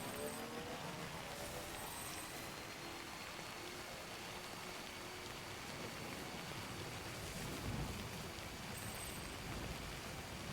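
Steady rain hisses in a video game's badlands setting, a dense even wash of falling water with no distinct drops, continuous and moderately loud throughout.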